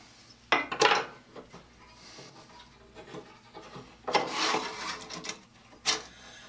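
A metal file rasps across the teeth of a toy crosscut saw in a few short, scratchy bursts, with quiet pauses between the strokes.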